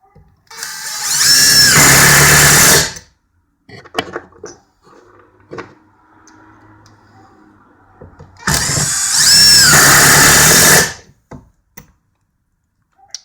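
A Makita BTD141 18V impact driver sinks an 8 by 1.25 inch screw into a 2x4 in two loud, sustained bursts of about two seconds each, with a quiet pause and faint clatter between them.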